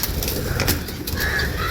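Pigeons and doves cooing among other birds, a steady outdoor bird chorus with soft low coos and a few higher calls, fairly loud and with no talk over it.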